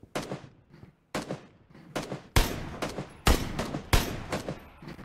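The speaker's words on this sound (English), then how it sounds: "Shooting at him with a 2x." Rifle shots with a 2x scope in PUBG: loud single cracks at uneven intervals, each with a long echoing tail. The later shots come heavier and closer together. Nobody talks.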